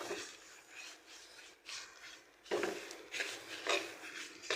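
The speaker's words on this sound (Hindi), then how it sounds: "इसमें मैं सारे तिल डाल दूँगी" Sesame seeds are stirred into melted jaggery in a pan, giving repeated close-up gritty scraping and rasping strokes in uneven bursts, with no talking.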